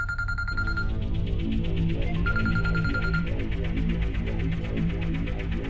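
A phone ringtone plays a repeating electronic melody, close and steady, with a throbbing pulse and no voices.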